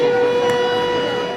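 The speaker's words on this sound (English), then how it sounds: "air raid sirens, as if they needed a reminder of why they were going" Air raid sirens wail in a steady, sustained tone over crowd noise as people scramble to board overcrowded trains during wartime evacuation.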